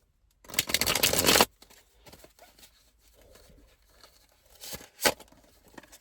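A deck of cards is shuffled in one loud riffle lasting about a second, followed by softer card handling and a second quick riffle burst.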